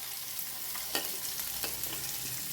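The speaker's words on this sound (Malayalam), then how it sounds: "ഇനി നമ്മൾ ഫ്രൈ ചെയ്ത ആ എണ്ണയിലേക്ക് തന്നെ നമ്മുടെ സവാള അരിഞ്ഞതും ചെറുതായി അരിഞ്ഞതും വെളുത്തുള്ളിയും പച്ചമുളകും എല്ലാം ഇട്ട് നമുക്കൊന്ന് വഴറ്റിയെടുക്കാം." Chopped onion, garlic and green chilli sauté in oil left from frying fish, a soft steady sizzle broken by a few scraping stirs, close and faint.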